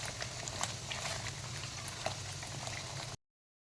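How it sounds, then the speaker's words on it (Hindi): Masala for a chicken kofta curry bubbles and fries in oil with a soft, continuous sizzle and a few small pops, close and unbroken until it cuts off abruptly. "ये देखिए मसाला हमारा बहुत अच्छे से भून गया है।"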